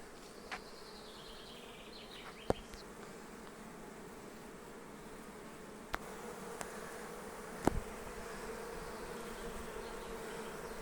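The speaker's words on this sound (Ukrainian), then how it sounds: "Дуже сильно йде бджола" A steady, dense hum of many honeybees buzzing close by around a hive, continuous throughout, with a few brief knocks and clicks.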